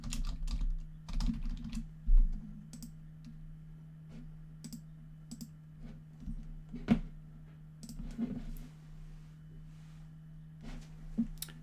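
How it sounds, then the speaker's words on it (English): Someone types on a computer keyboard in irregular bursts of clicks and single key taps, close and moderately loud over a steady low electrical hum, with short pauses between runs. "you can easily just send text right off here off your keyboard"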